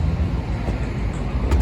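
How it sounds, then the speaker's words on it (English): A car rushes past outside near a home workshop during a Toyota Corolla alternator swap, a brief loud low rumble with wind-like buffeting and no talking. "Because I walk outside, hear car flying by or that."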